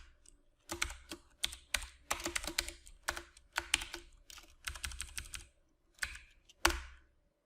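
Typing on a computer keyboard, clusters of quick light clicks and key taps in uneven bursts with short pauses, close and fairly quiet.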